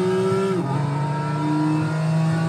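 A Nissan R34 Skyline GT-R V-Spec II from Gran Turismo 5 revs steadily, its tone dipping after a brief drop in pitch and then holding a loud, sustained mid-range drone with no voices.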